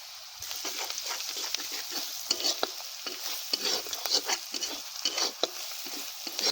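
A spice paste of ginger, chili and turmeric fries in a pan with a steady sizzle while it is stirred and scraped in quick repeated strokes, close up, with no talking.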